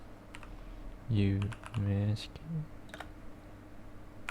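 Sparse clicks of typing on a computer keyboard while entering a Linux terminal command, quiet and close, with a short spoken word in between.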